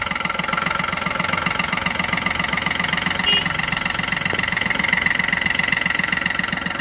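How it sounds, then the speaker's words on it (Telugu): A Chevrolet Beat LS car engine idles steadily nearby, with a constant low rhythmic chugging and a faint mechanical ticking throughout. "ఒకసారి మీకు ఇంజిన్ సౌండ్ అయితే చూడండి"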